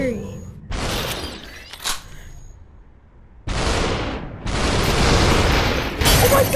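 Loud gunshots and shattering bursts from the VR game Superhot VR come in separate sharp blasts, with a lull between them and a couple of long, heavy bursts later, mixed with a player's voice.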